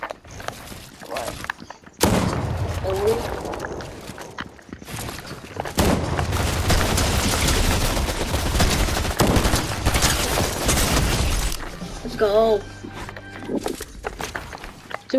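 A dense, loud burst of rapid video game gunfire runs through most of the stretch, with scattered shots before and after it and bits of background game noise, but no clear speech.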